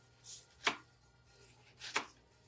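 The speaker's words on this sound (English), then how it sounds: "we're gonna kind of julienne our onions" Two quiet, separate knife chops against a board as onions are cut into very thin julienne strips for Baja-style fish and shrimp tacos, soft and close over a low background hum.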